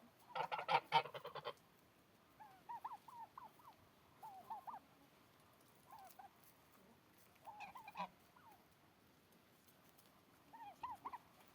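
Geese honk in repeated bursts, with a loud flurry of calls near the start and then spaced clusters of nasal honks, fairly close, with no talking.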